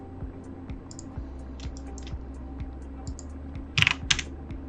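A computer keyboard is tapped at close range as a command is entered in Grasshopper parametric modeling software, with light irregular keystrokes, a quick flurry of louder clicks near the end, over a steady low hum.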